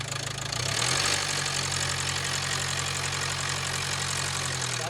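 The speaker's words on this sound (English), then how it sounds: "your engine will sound more rattly than normal" A rattly diesel engine in a 2016 Range Rover Evoque TD4 idles close by. It gives a steady, loud knocking clatter that swells briefly near the start and then holds even.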